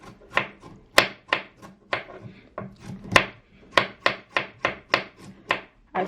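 A knife chopping through the thick end of a carrot on a board, in about fifteen sharp, crisp cuts at a steady, brisk rhythm, close and clear, with no talking.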